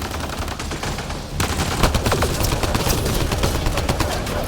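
Dense automatic gunfire rattles through a Mass Effect Andromeda firefight, with rapid overlapping bursts and sharp cracks that grow louder and busier after a brief lull, continuing without pause to the end.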